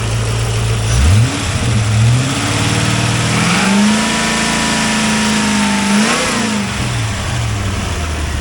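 A 1990 Corvette C4 convertible with an L98 V8 engine runs steadily and revs up and down several times, a loud, close idle rising in pitch before settling back, with no talking.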